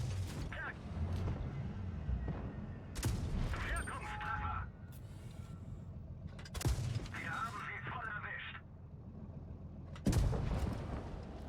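Tank cannons fire in World of Tanks Blitz, with loud booming shots spaced several seconds apart, each followed by mechanical reload clanks and creaks and a rumbling engine bed underneath.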